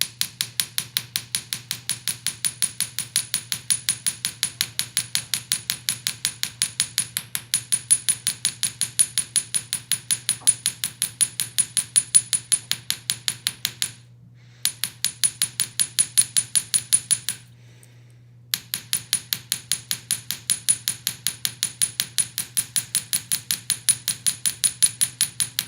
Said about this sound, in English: as you hammer each of the individual petals